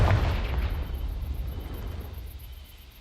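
A fire spell explosion in Hogwarts Legacy bursts at the start and rolls into a deep, rumbling roar that slowly fades over a few seconds, with no talk.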